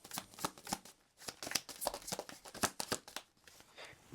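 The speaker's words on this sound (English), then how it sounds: "These are sometimes not the easiest to shuffle." Tarot cards being shuffled by hand at close range, with quick rhythmic riffling bursts and soft flicks that repeat unevenly over several seconds.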